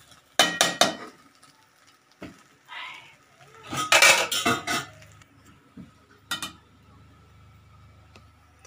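Seafood paella rice with prawns and mussels is stirred in a metal pan, with clanking and scraping of a utensil in short bursts, close by, against a faint background hum.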